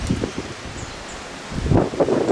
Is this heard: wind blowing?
yes